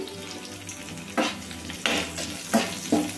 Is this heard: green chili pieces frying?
yes